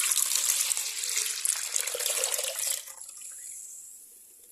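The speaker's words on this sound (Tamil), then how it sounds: "இதில் வந்து இந்த வாட்டர் ஆட் பண்ணிக்கலாம்." Tap water pours steadily into an empty bowl for detergent liquid, a bright continuous splashing rush lasting several seconds before thinning into a softer trickle.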